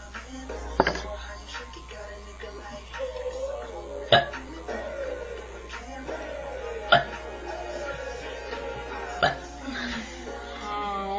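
Repeated burps after drinking Pepsi, several short loud bursts spaced a few seconds apart over a steady background hum, close to the mic.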